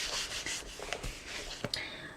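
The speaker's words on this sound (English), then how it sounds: "There we go, and then just burnish that down." Paper being burnished down onto the front cover of an 8x8 scrapbook album, a close, soft dry rubbing with a few brief sharper scrapes and taps, no talking.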